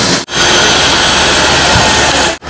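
Loud, steady helicopter engine roar with broadband whine, continuous and close, briefly cut twice by sharp dropouts.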